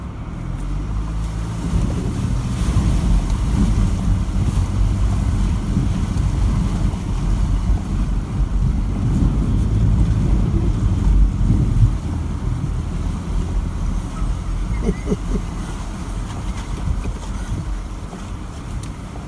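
A 4WD vehicle ploughs through a deep river crossing with loud, continuous rushing and sloshing of water against the body over a low engine rumble. Gusty wind buffets the microphone the whole time.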